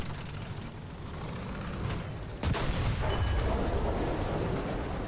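Tank cannon fire in War Thunder strikes a Matilda tank and sets off its ammunition, a sudden loud blast that cuts through steady engine rumble and leaves a heavier, sustained roar afterward.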